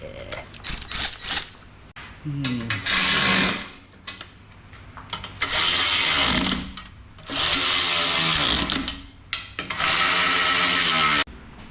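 A 12mm ratchet wrench working during a 6L80 gearbox replacement on an HSV VF, heard as long bursts of rapid mechanical clicking with short gaps between them and someone talking around them.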